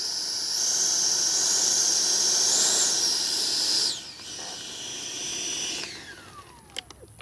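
A 90mm electric ducted fan RC jet at dusk produces a loud, high-pitched whine that rises and falls as it flies past, then fades to a fainter hiss with a couple of clicks near the end.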